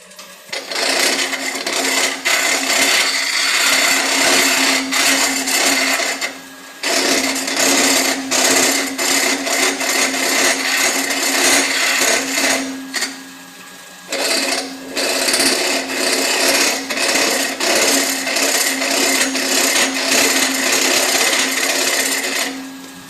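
A wood lathe hollows out a turned piece, giving a loud, close, continuous scraping and whirring that drops out briefly twice, with no talk.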